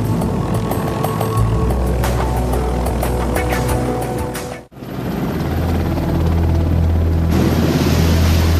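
Helicopter flying, its rotor producing a loud steady thrum with rhythmic blade chop, briefly cut then resuming at close range.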